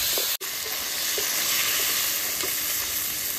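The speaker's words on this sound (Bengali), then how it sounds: "আমি বাকি মাংসগুলো ভেজে নেব।" Chicken pieces fry in a hot pan for a Bihari-style chicken dish, a steady close, loud sizzle that keeps going throughout, broken by one very brief dropout near the start, with no talking.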